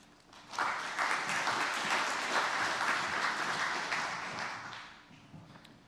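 A conference audience at a Queensland Government technology event breaks into sustained applause to welcome a presenter, rising quickly, holding steady for several seconds, then tapering off.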